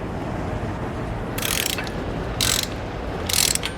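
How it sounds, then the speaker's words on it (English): A hand ratchet clicks as it tightens 3/8 U-bolt nuts on a steering stabilizer for a 2021 Ford, three short bursts of crisp, close pawl clicking over a quiet background. "I'm gonna go ahead and torque down"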